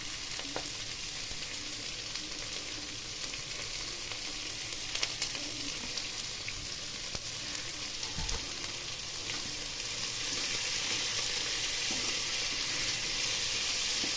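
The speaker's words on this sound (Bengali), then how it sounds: "এটা ভালো করে ভাজার পর আমি ফিরে আসছি তারপর" Chicken pieces frying in a pan for chili chicken, a continuous crackling sizzle with occasional pops and stirring scrapes, steady and close throughout with no talking.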